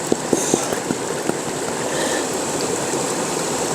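Water of the Arkansas River flows in a steady, soft rushing wash close by, with a few light taps near the start and no talking.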